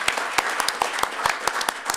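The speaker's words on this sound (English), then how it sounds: "let's give her a big round of applause" Applause from an audience at a school district board meeting, a loose crowd of hands clapping with sharp irregular peaks at moderate volume, steady for two seconds.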